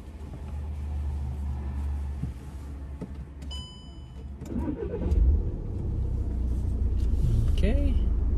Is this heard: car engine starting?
yes